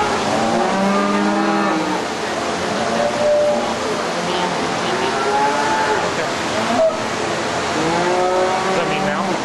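Cattle at an agricultural show in Illinois, during a dam and offspring class of cows with calves, moo repeatedly in several drawn-out calls over a steady crowd and arena din, with people talking nearby.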